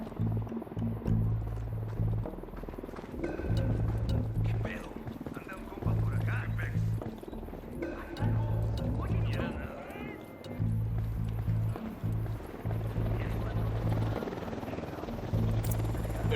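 An enemy helicopter in the video game Ghost Recon Wildlands approaches with a steady rhythmic rotor thump that pulses throughout, heard beneath talk and game effects.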